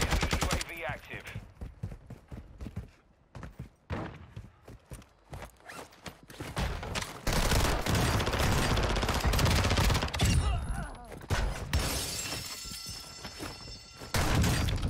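Gunshots in Call of Duty: Warzone at Vondel Park: dense bursts of rapid gunfire crackle in clusters, some near and loud, others thinner and distant, amid scuffing movement and game noise.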